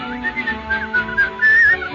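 A clear, melodic whistle carries a tune in a 1938 radio drama of Snow White, wavering up and down in pitch over soft background music.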